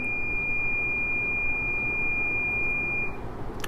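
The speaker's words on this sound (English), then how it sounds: "Hold that thought, that's my oven timer." A home oven timer sounds one steady high electronic beep lasting about three seconds, clear above a low background hiss, with no talking.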